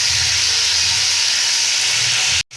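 Fried fish and ground whole-spice paste with nutmeg and mace hit hot oil, giving a loud, steady hissing sizzle that continues evenly before breaking off abruptly at the end.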